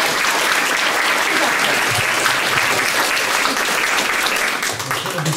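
Audience clapping at a harvest festival at a Jesuit centre in Chicago, a loud, sustained round of applause from a crowd that tapers off at the end.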